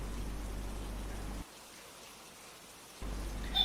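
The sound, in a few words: rain falling during rain detection umbrella demonstration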